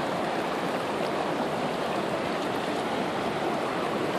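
Steady broadband rush of moving floodwater in Lansingburgh, Troy, heard while wading through the flooded street, a continuous close wash with no clear individual steps.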